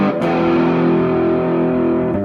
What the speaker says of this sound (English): It's a distortion pedal.